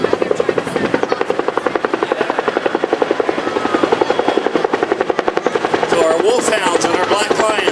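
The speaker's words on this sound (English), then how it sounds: "Knowing where the enemy is, the gunship can now be fired into the tree line as they drop the smoke." Helicopter gunship flying over a Vietnam War reenactment at Fort Jennings, with steady rapid rotor chop throughout, loud and close, growing brighter and more intense in the final seconds.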